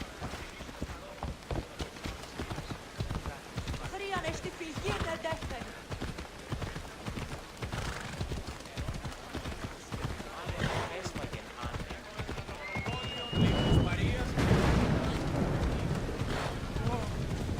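A horse gallops in the video game Assassin's Creed Odyssey, its steady rhythmic hoofbeats continuing throughout with wind rushing past and a louder surge near the end, while a person talks at times.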